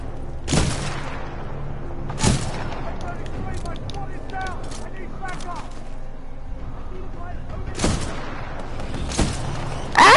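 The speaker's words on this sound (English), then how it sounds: "Stop shooting those missile things at me!" Missiles fire at the player in the video game Titanfall 2, several loud booming blasts spaced a second or more apart over steady battle noise, with a voice talking throughout.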